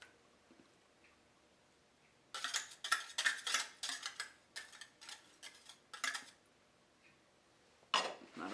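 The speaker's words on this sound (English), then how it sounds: "Whisk that to incorporate." A whisk clinks rapidly against a bowl while mixing Worcestershire sauce and yogurt into a dressing, quick metallic rattling bursts separated by brief pauses, close and fairly quiet.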